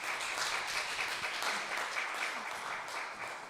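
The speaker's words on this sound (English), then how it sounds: "So let's give him a warm hand of applause." Dense applause from an audience welcoming a theology speaker at a forum event, a steady broadband wash of many hands clapping at once, sustained and even throughout.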